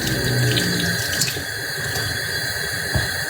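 Tap water runs steadily into a kitchen sink while vegetables are washed beneath it, a close, continuous splashing with small bumps of handling and no talk.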